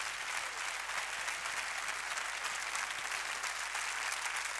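A theatre audience applauds the maestro in a steady, dense, even wash of clapping with no gaps, moderately distant and without talk.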